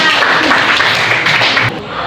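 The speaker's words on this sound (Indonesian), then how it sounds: "tepuk tangan untuk kalian" Students in a classroom clap together in a loud, close burst of applause that stays dense for about two seconds, then drops off quickly.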